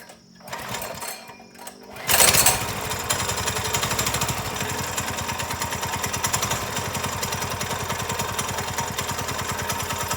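A minibike's small single-cylinder engine starts after a couple of seconds of quiet and settles into a steady, loud, rapid putter, running near and unbroken with no talk over it.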